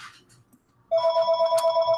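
After a quiet moment with faint room noise, a mobile phone starts ringing indoors, a loud, evenly pulsing electronic trill that continues to the end.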